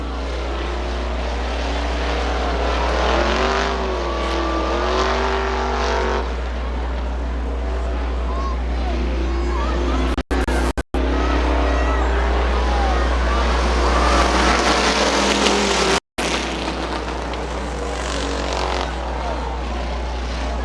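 Street stock race cars, including Frank Weller's and Mark George's 69M, race around Butler Motor Speedway's 3/8-mile high-banked dirt oval. Their engines roar loud and continuous while an announcer talks over them.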